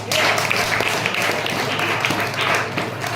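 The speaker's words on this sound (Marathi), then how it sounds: "बरोबर टाळ्या वाजवा त्यांच्यासाठी" A classroom of schoolchildren applauds in a continuous, even round of clapping, loud and near, with scattered sharper claps standing out from the crowd.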